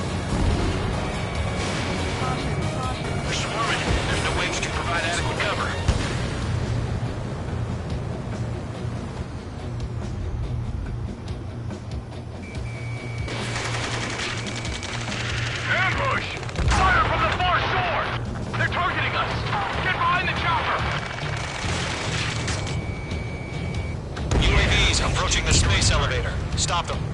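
A video game battle fills with steady gunfire and booming explosions, dense and continuous, with shouted voices over the combat throughout.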